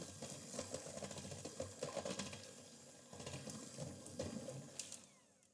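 An electric hand mixer beats chocolate cake batter for a traditional Hungarian chocolate cake, a faint, steady motor whir with soft irregular sloshing that tapers off at the end.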